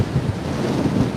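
Strong outdoor wind in San Francisco buffets the microphone with a steady, loud rumbling roar through the whole short stretch, no voices.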